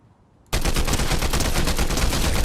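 Sudden sustained automatic gunfire in the Fortnite video game, breaking in after a brief quiet moment and continuing as a loud, rapid, unbroken stream of shots to the end.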